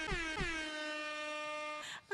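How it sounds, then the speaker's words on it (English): A single long air horn blast aboard the cruise ship MSC Magnifica, loud and brassy, held steady for nearly two seconds before cutting off. "You get the air horn."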